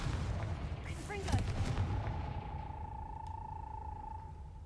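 A Confringo fire spell blast in the Hogwarts Legacy video game: a crackling, booming burst with quick whooshing flickers, then a steady ringing hum that lingers and slowly fades.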